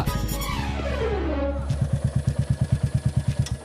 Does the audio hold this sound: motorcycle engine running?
yes